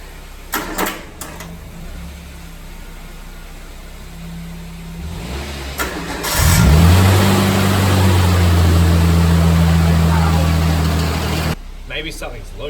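A boat engine that has a loose part cranks and fires, then runs loud and steady for several seconds before cutting out, with voices talking over the quieter stretches.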